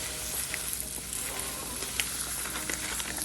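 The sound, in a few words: rice added and sizzling in the pan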